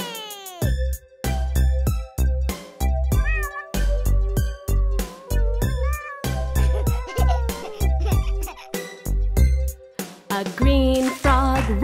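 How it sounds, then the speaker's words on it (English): White cat meowing loudly over and over in a quick series of clear, drawn-out cries, close and unaccompanied, with a final higher, wavering meow at the end. "A white cat meows real loud"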